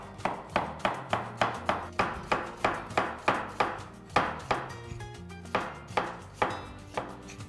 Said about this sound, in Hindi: सिमिलरली गाजर को भी हम काट लेंगे।